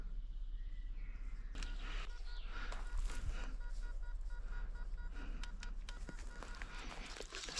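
Electronic tones from a metal detector beep at a deep target against a steady outdoor background hum, with a few faint knocks and clicks.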